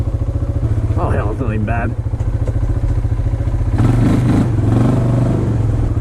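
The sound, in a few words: Bayou 220 ATV engine revving while riding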